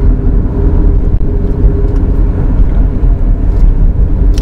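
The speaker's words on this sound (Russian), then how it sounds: "У нас тут гремят запчасти." A 2006 KIA Spectra drives along with loose parts rattling: a loud, steady low road rumble and engine drone fill the cabin, broken by small clicks and knocks, with no one talking.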